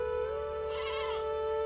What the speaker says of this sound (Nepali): यहाँ पनि बाख्राहरू छन्